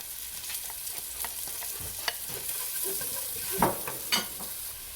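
Onion, green chillies and carrot sauté in a pan for cauliflower fried rice, a close, steady sizzle broken by a few sharper stirring scrapes and spatula knocks.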